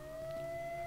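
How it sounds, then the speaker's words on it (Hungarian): Siren in the video game S.T.A.L.K.E.R.: Shadow of Chernobyl, a steady sustained wailing tone that holds evenly and fairly loud throughout against a low background hum. "Jó, még egy sziréna is, azt kell nekem."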